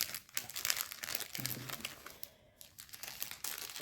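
Crinkly plastic packaging rustles and crackles steadily as cross-stitch fabric, 14 count and 40 by 50 cm, is wrapped up close by, with a brief quieter pause partway through.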